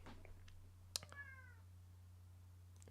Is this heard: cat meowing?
yes